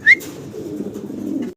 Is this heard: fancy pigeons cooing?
yes